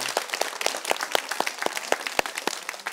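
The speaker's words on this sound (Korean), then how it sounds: "박수 한번 합시다." An audience at a Korean church lecture on spiritual warfare claps together in a quick, steady rhythm, the sharp hand claps evenly spaced and fairly close through the whole stretch.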